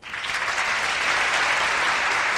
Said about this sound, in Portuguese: Uma salva de palmas para o Ander.